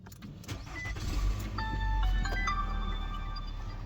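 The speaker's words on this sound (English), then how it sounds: "Let's go in the car, start it up." A 3G Mitsubishi Eclipse engine being started after build work, with a starter crank that catches into a rising low rumble, then settles to a steady idle, close by and fairly loud.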